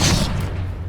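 Expelliarmus disarming spell cast in the Hogwarts Legacy video game: a single loud magical burst with a deep booming thud at the start, fading into a low rumbling tail.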